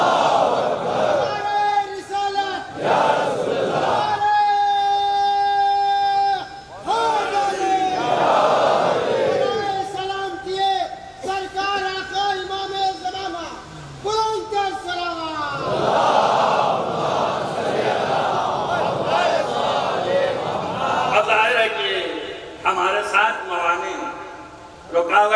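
A large crowd of mourners at a Shia majlis-e-chellum gathering shouts the takbir response in loud, sustained unison, with voices rising and falling in repeated chanted waves for about twenty-five seconds.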